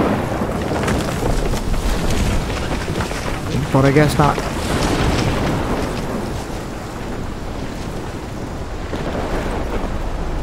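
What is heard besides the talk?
storm wind and thunder in the video game Life is Strange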